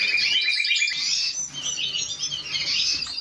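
Several small aviary birds chirp and tweet rapidly in dense, overlapping high-pitched bursts, close and continuous, with no talk.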